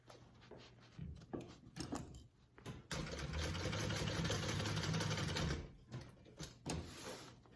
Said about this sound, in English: Let's do a quick basting stitch.